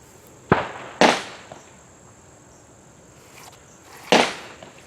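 M1911 pistol firing three sharp shots outdoors, the first two close together and the third after a pause of about three seconds, each a loud crack over a quiet background.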